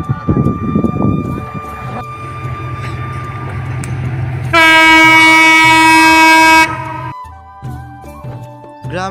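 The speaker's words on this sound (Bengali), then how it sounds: "গ্রামের বুক চিরে ছুটে চলেছে একটি ট্রেন।" A train rushes through a village in rural Bangladesh, its steady rolling rumble underpinned by a loud, sustained horn blast of about two seconds midway before the noise tapers off.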